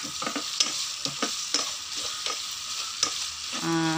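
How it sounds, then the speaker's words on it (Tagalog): Pork with pepper, fish sauce and dried fish sizzles in a pan as a utensil stirs it, scraping in irregular strokes over steady frying crackle, close by, ending with a brief clink. "Halo-halo lang. Para ma-mix po yung paminta, patis, tuyo, at saka"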